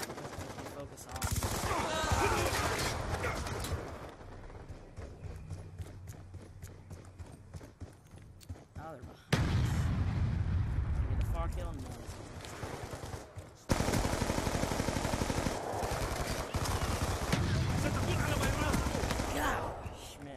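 Submachine gun fire in a first-person shooter game crackles in rapid repeated bursts, loud and close, with stretches of quieter gameplay sound and some talking in between.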